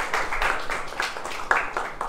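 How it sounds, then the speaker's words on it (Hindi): Audience clapping during a quiz contest, a short burst of steady applause from a crowd that sounds fairly loud and close, with no voices over it. "तालियां बजाएं।"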